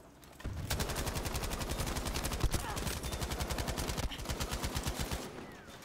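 Sustained bursts of MG34 machine gun fire from the Battlefield V video game, desert tank and infantry combat, in a loud rapid-fire stream of regular shots lasting several seconds, with a brief pause near the end before firing resumes.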